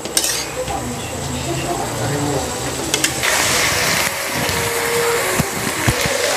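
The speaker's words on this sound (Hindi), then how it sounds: "इसको चला लेते हैं" A spoon clatters in a cooking pot as chicken liver and potato are stirred. Sharp metallic scrapes and knocks sit over a busy kitchen background, with a few louder clinks standing out.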